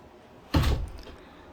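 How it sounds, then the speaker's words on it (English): A door to the back deck of a mountain tiny house in Monteagle, Tennessee, opens or closes with a single brief thump and rattle that fades quickly, with no talking over it. "This is the door to the back deck."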